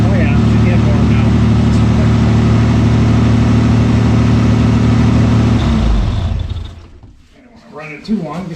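A 1986 Mercury Cougar engine drones loudly at a held, raised speed, then cuts off and fades away, after which a person speaks nearby.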